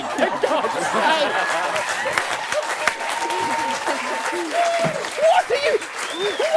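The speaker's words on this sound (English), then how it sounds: "What are you all applauding?" An audience claps steadily throughout, a dense ripple of applause mixed with scattered laughter, chatter and voices speaking over it.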